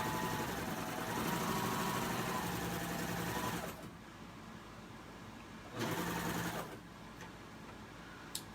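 A sewing machine running a narrow cover stitch along a knit T-shirt neckline, a steady close mechanical hum for a few seconds, then a quieter pause and a second shorter run, with no talking.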